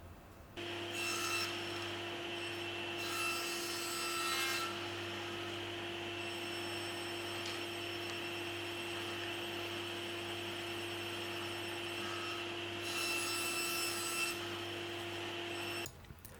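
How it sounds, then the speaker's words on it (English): Table saw on a crosscut sled ripping long, thin wood triangles with a small triangular shim taped to the sled; a steady motor drone runs throughout, with two louder cutting passes near the start and end, no talk. "I used a small triangular shim which I double-sided taped to my crosscut sled, then I could easily cut the long triangles."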